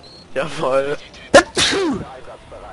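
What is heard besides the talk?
sneeze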